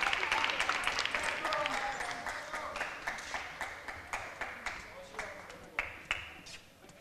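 Sparse, scattered hand claps from a modest crowd at a live team sports fixture, growing into distinct separate claps toward the end, with commentators talking over the top.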